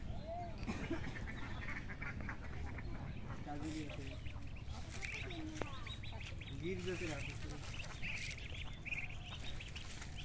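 Several ducks quack on and off in the distance at a farmstead pond, with people talking faintly in the background.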